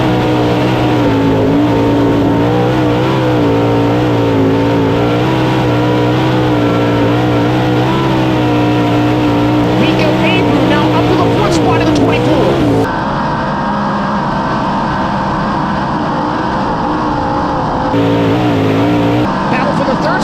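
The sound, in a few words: sprint cars racing on dirt track at Charlotte Motor Speedway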